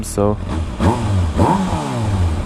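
A motorcycle with a new exhaust, catalytic converter removed and decibel killer fitted, revs up and down with a throaty, rumbling exhaust note, a person saying a word briefly over it.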